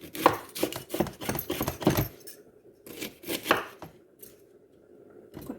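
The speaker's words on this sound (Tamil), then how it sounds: "கோவாவை இப்படி மெல்லிசு மெல்லிசாக வெட்டணும்" Knife thinly slicing cabbage on a board, quick runs of crisp rhythmic chops in two bursts separated by a short pause, close and clear with no talking.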